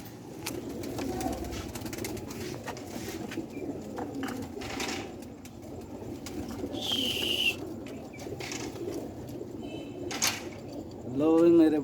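A pair of Ali wala breed pigeons, male and female, coo softly on a Sialkot rooftop in repeated low murmuring calls, with background voices and a brief flutter of wings near the end.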